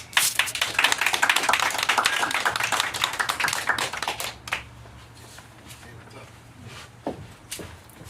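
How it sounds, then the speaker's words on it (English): A small audience at a poetry open mic in a bookshop claps for a poet, a brief close burst of clapping that fades within seconds, followed by a few scattered taps and a voice talking. "round of applause for another amazing creative coming to the microphone"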